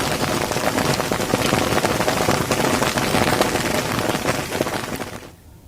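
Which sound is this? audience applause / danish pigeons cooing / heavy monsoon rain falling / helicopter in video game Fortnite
heavy monsoon rain falling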